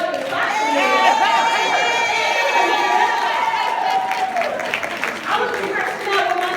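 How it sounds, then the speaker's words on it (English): A keynote audience claps and cheers steadily throughout, with crowd chatter and voices mixed into the applause. "Y'all better get up and clap for me."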